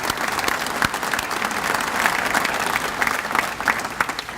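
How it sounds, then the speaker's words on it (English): Sustained audience applause at a policy review day event, a dense, steady wash of many hands clapping from start to finish with no break. "let's give them a round of applause"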